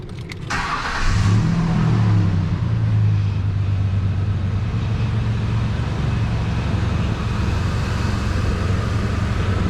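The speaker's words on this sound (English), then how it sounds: "now I'm going to start the engine and see what it runs at" A Ford Ranger pickup truck engine cranks and catches, revs briefly, then settles into a steady rumbling idle close by, with no voices.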